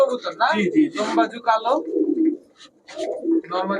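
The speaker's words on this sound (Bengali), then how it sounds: "দুই জোড়া সুন্দরী চুইঠাল কবুতর" Chuithal pigeons coo nearby in soft, repeated guttural rolls, interleaved with someone speaking.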